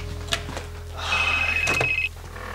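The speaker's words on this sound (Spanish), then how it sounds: "Voy a atender el teléfono." An indoor telephone bell rings, a single sustained ring of about a second after a few faint knocks and handling sounds, fairly close and alone without talk.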